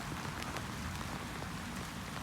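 Rain falls steadily on a farm in winter, a soft, even patter with scattered drop hits, faint and continuous with no voices.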